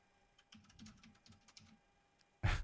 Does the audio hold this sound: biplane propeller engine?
no